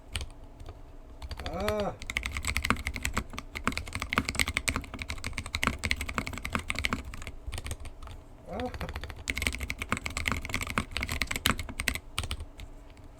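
Rapid typing on a KBD Fans D60 keyboard fitted with Cerulean switches, close-up and continuous with dense, even keystrokes, broken by a couple of short vocal exclamations.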